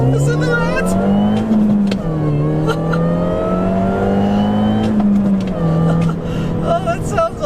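A 2006 Mini Cooper S John Cooper Works engine revs and pulls hard through several rising gear pulls on a back road, loud and close, its tone climbing and dropping with each shift.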